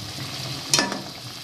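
Boiled chicken simmers down in a pan as its water reduces, with a soft steady bubbling sizzle and one brief scrape of stirring in the middle.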